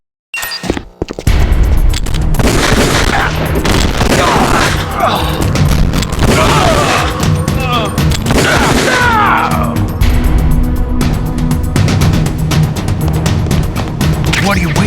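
Rapid gunfire and heavy booms in the GameCube video game Metal Gear Solid, dense and loud throughout, with voices shouting over the shooting.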